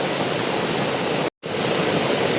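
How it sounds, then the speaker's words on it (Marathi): Heavy rain pours down with water streaming across a road, a loud, steady broadband rush that holds constant throughout, broken by one short silent gap near the middle. "पाणी बघ काय पाऊस आहे वे"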